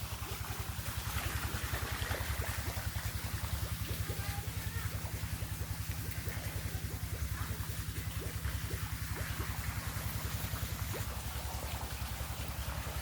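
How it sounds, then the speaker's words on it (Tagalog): A motor runs to supply water on a family farm, a steady loud droning hum that continues unbroken under faint background noise. "Pinandar ni Reggie yung motor"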